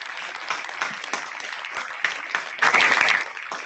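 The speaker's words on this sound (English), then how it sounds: "We'll give you one last round of applause" Audience applause at a Pro Football Hall of Fame program, sustained broadband clapping from a crowd for nearly four seconds, swelling louder toward the end.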